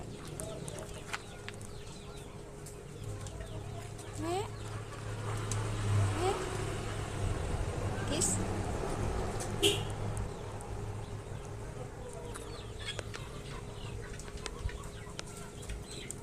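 Chickens cluck now and then, soft and scattered, over a steady low outdoor hum with occasional faint distant sounds.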